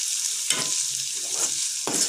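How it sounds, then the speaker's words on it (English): Goat brain pepper fry stirred in a frying pan, a spatula scraping through the sizzling mixture in three distinct passes over a steady frying hiss, close and alone with no voices. "Mix it gently."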